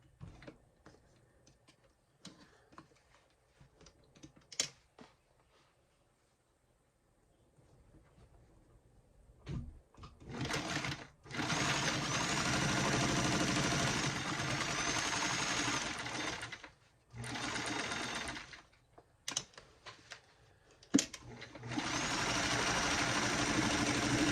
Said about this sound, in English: I'm just going to sew down this whole side here.